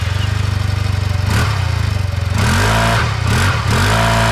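A 2022 Yamaha TMAX Tech Max scooter runs on its stock exhaust, idling with a steady low rumble before a few sharp revs blip up and settle back, loud and close throughout.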